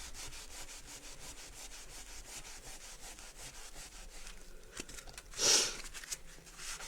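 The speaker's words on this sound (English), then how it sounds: "I definitely do think I'm going to need to invest in a new foam sanding block." Foam sanding block rubbing over an MDF shaker boat to distress the paint, rapid rhythmic scratchy strokes, close and quiet, with one louder brief scrape near the end.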